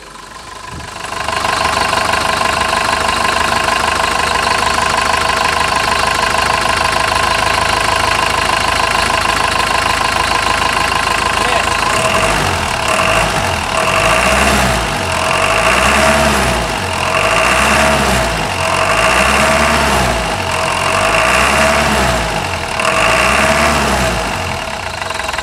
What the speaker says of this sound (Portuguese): Isso que é um barulho de motora diesel